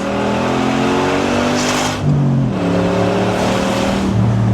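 A 1967 Corvette C2 resto mod with an LS3 V8 and TKX 5-speed, driven hard, roars loudly and continuously, its engine note climbing through revs with a brief dip at a gear change.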